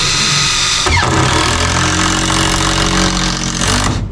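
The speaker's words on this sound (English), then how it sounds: "Impact drill, y'all. Every man needs one of these." A cordless impact drill whirs up abruptly and runs loud and steady for a few seconds, then cuts off.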